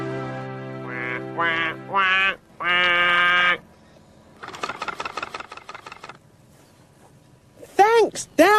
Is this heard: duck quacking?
yes